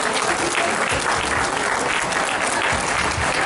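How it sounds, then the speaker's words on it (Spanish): A crowd at the closing ceremony of a small film festival in Erongarícuaro, Michoacán, applauds a guest with continuous, fairly loud clapping that fills the space, with faint voices mixed in. "Un aplauso también para nuestro amigo Rogelio."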